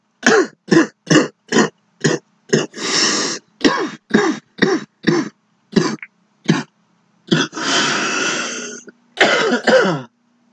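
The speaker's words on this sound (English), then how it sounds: "Sorry guys, I apologize for the coughing." A sick person coughs and clears their throat repeatedly at close range, a long series of sharp, separate bursts with brief gaps, plus a couple of longer rasping hacks.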